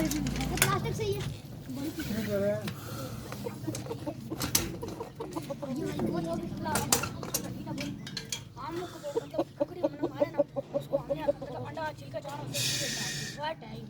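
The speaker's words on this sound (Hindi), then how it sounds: "ये मुर्गा किसका है?" A rooster of an old Lasani fowl bloodline clucks and calls in short repeated bursts, close by, mixed in with steady talk from people nearby.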